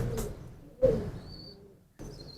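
A pigeon coos softly nearby, a low throaty call, with faint chirps and rustling in between.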